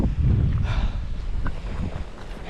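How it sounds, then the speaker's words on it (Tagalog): Wind gusting outdoors on a hilltop during a hunting trip, buffeting the microphone as loud, rough rumbling with a few faint knocks, and no voices. "Sarap ng hangin."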